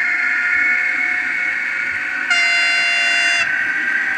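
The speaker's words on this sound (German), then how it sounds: "Muss erst warm werden, die Lok." A model railway locomotive running on a layout at Miniatur Wunderland, giving a steady tonal whine with a brighter horn-like blast partway through, fairly loud and close, with no voices.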